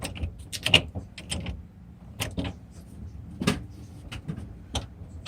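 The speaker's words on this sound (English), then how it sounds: "Put it through all the gears." Gearbox of a 1978 VW T2 camper bus being shifted through each gear, with a run of sharp mechanical clunks and clicks spaced unevenly, close and moderately loud over a low idle rumble.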